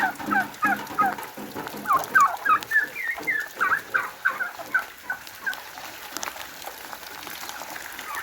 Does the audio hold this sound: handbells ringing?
no